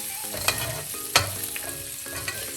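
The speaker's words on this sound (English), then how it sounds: "Adding in our pepperoni. And we're just going to cook these until they get nice and crispy." Pepperoni slices crisp in a hot skillet with a continuous crackling sizzle, punctuated by a couple of sharp utensil scrapes against the pan, close and unaccompanied by speech.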